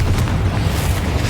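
Confringo explosion spell in Hogwarts Legacy, a loud, deep booming blast with a continuous roaring low-end rumble filling the whole moment.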